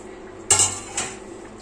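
A lid lifted off a pot of toddy-shop style fish curry, giving a sharp metallic clank followed by a softer second clink, close and brief.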